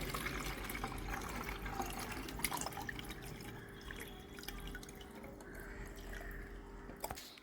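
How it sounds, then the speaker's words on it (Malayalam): A mixed liquid garden spray for bougainvillea pours into a spray bottle with a quiet, trickling, dripping stream and a few sharp clicks of handling, recorded close and faint. "ഇനി സ്പ്രേ ചെയ്യുന്ന ബോട്ടിലോട്ട് ഒഴിക്കുകയാണ്"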